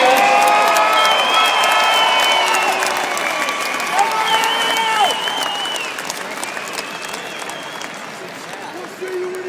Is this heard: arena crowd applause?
yes